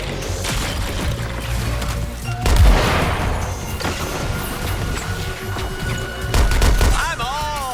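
Heavy weapon fire in the video game Suicide Squad: Kill the Justice League, with loud booming blasts near 2.5 and 6.5 seconds over a dense wash of continuous combat noise, music and effects.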